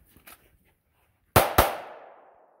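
Two sharp pistol shots crack in quick succession at a shooting range, loud and close, each followed by a brief echoing decay, after a few faint clicks.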